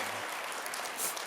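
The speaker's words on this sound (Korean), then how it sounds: "우리 수고하신 모든 우리 가정분들께 큰 박수 부탁드리겠습니다." A church congregation claps together in a brief, quiet patter of applause heard from a distance, without voices.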